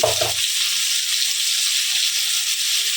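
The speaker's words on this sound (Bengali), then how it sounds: "আলুটাকে এবার সাঁতরে দেবো" Small new winter potatoes, boiled with salt and a little turmeric, sauté in hot oil in a pan, giving a close, steady, bright sizzling hiss that runs on with no talking.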